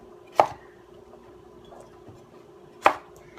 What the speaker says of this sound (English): I'm just going to chop this carefully into smaller pieces.